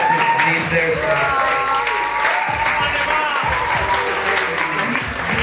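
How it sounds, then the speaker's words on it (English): Audience applause for eighth graders standing at a school poetry slam, sustained clapping filling the room for several seconds with a voice speaking over it. "The people you are clapping for right now."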